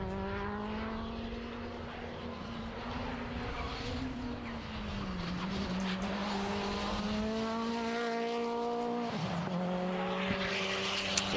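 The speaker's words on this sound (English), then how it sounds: "There is the 71 of Dean Taylor again on another press lap to see if he can find a bit more pace." Dean Taylor's number 71 Honda race car on a push lap at Knockhill circuit, its engine note climbing and dropping through the gears as it passes, loud and continuous with a sweeping pitch change near the end.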